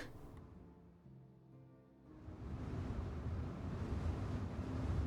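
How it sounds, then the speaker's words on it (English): Wind blowing in the video game Divinity: Original Sin, a soft airy hush with a faint low tone that swells into a steady, louder rushing gust, no speech over it. "It's just wind in this direction."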